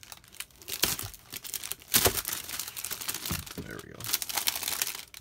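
Reflective plastic packaging on a cardboard figure box is opened with loud, close crinkling and tearing in irregular bursts, while a person talks briefly.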